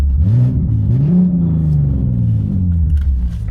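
Big-turbo BMW G80 M3 on the move: a loud, close engine drone whose pitch climbs and falls through several rev swells, with a gruff turbo rumble under it and no talking.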